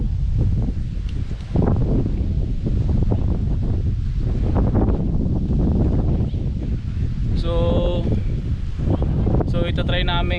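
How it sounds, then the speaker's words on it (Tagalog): Strong wind buffets the microphone outdoors in open green countryside with cattle in San Rafael, Bulacan, during a bike ride, a steady loud roar with people talking over it throughout. "Ang hangin."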